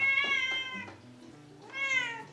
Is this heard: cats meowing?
yes